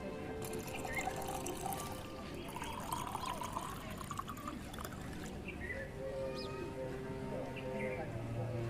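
Water poured out for someone to drink, a soft trickling and splashing under a busy background with voices talking nearby.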